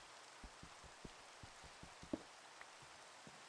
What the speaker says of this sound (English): I want to keep the rain sounds on as well.